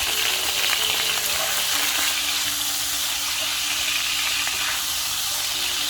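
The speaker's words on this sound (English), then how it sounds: "Just fry it for a couple of minutes until it turns pink like so." Raw prawns fry steadily in hot oil, a continuous close sizzle with a few soft stirring scrapes, no voices, for charcoal seafood noodles.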